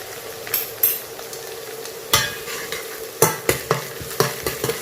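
Tomatoes sautéing for masala macaroni in a pan on a low flame, a soft steady sizzle broken by several sharp scrapes and clinks of a spoon stirring against the pan.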